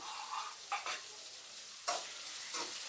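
Peanuts fry in hot oil for upma, making a soft, steady sizzle broken by several short scraping stirs at uneven intervals. The sound is close and quiet, with no talking.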